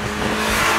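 Steady turbocharged engine note from a Fiat 500 Abarth Cabrio, a continuous loud mechanical drone that builds slightly over a brief moment, heard alone without speech.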